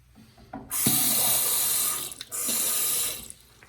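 A hotel bathroom tap at a Hampton Inn in Clarksdale, Mississippi gushes on twice, a steady splashing rush of running water with a brief pause between bursts.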